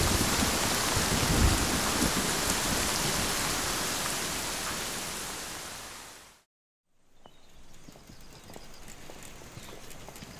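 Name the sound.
heavy rainstorm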